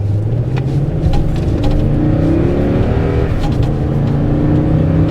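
A big V8 truck accelerates hard, its deep engine rumble rising steadily in pitch through the gears, loud and close from the cabin with no talk over it.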